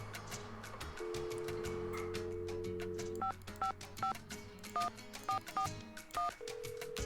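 Telephone keypad dialing in a Nancy Drew video game: a quick run of paired electronic touch-tone beeps, each short and evenly spaced, over a quiet ticking background and a steady tone before and after.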